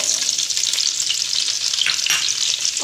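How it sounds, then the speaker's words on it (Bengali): Onion and capsicum fry in mushroom-flavoured oil for chilli mushroom, a loud, continuous close sizzle with a few stirring scrapes and no voices. "এবার হালকা করে ভেজে নেব"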